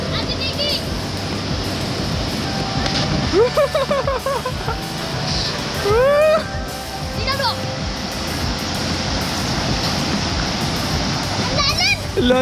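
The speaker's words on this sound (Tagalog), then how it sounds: "Ang lakas ng agos." A strong river current rushes in a steady, loud broadband roar. Voices speak over the water throughout.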